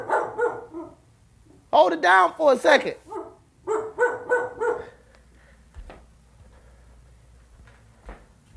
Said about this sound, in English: I'm making my dog bark.